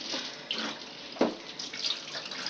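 Water poured out of a pot of soaking beans in a kitchen sink, a close splashing stream with one sharper gush midway, alone without talk.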